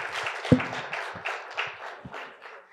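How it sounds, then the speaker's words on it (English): A small panel audience gives a short burst of applause for a speaker, scattered claps tapering off over a few seconds, moderately distant and fairly soft. "Can we give her a round of applause?"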